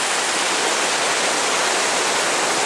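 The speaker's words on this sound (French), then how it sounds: "on croise pas mal de ruisseaux à traverser tout au long de la randonnée" Mountain stream along a hiking trail, a steady broad rush of flowing water, close and continuous with no other sounds.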